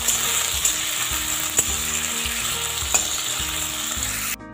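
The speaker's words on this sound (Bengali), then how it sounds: "গ্যাসের ফ্লেমকে হাই করে রেখে আমি কিছুক্ষণ আলুটা ভেজে নিয়েছি।" Potatoes fry in oil over a high gas flame, a steady loud sizzle with occasional scrapes and clinks of a spoon stirring in the pan, close and continuous with no talking.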